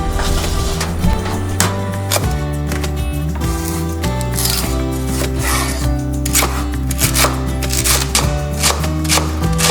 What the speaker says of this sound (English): So first I like to chop them up teeny tiny